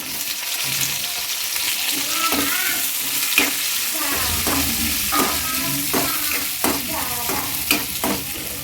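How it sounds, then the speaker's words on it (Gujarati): Large chopped pieces of bell pepper stir-fry in a hot pan for restaurant-style dry chilli paneer, a loud steady sizzle close by, broken by repeated scraping and clattering strokes of a spatula as the pieces are tossed. "હવે આપણે શિમલા મિર્ચ નાખશું, મોટા મોટા આ રીતે ટુકડા કટિંગ કરેલા છે।"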